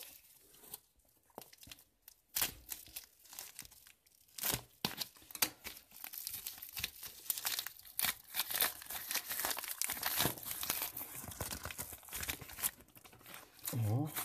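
Crinkling plastic rustles close by in bursts as a small AliExpress packet holding earrings is torn and handled, with a voice talking intermittently.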